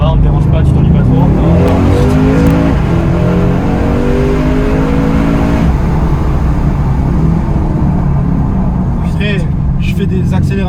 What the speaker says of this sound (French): Je fais des accélérations comme ça